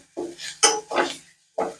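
A spoon scrapes spice paste around a pan as it is sautéed over low heat for cashew usal, four short, close scraping strokes separated by brief pauses.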